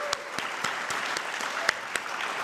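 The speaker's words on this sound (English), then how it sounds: "can we get a round of applause for these folks?" Sparse applause from a county address audience for community workers, a few distinct sharp claps standing out over a soft, moderately distant patter of hands.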